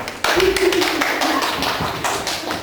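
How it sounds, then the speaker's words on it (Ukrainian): An audience applauds in a studio as a guest named Natalka, a woman from Poltava, walks in; a dense, steady clatter of many hands starts abruptly and carries on loud and close throughout. "Глядачі аплодують, входить Наталка."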